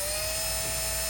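A power drill runs steadily, boring a screw hole through a golf cart fender flare for mounting; a constant high whine with a strong tonal hum continues alone for about a second.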